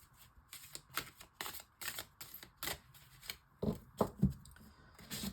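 Oracle cards from a Dis-moi que tu m'aimes deck being drawn and laid down, a string of quiet, separate papery flicks and soft slaps with brief pauses between them, close and unaccompanied by talk.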